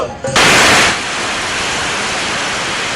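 Firecrackers burst at an election campaign welcome for a candidate, a sudden loud roaring crackle that settles into a continuous dense noise wash.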